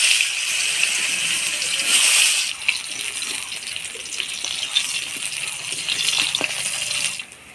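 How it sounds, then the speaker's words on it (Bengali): Raw banana pieces stirred in hot oil give a bright, steady sizzle with scraping and clattering from the stirring, louder at first and then slightly softer. "এবার এই তেলের মধ্যে কাঁচা কলাগুলো নাড়াচাড়া করে নিব।"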